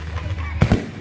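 A 2025 fireworks display gives two quick, close booms in rapid succession over a background of voices.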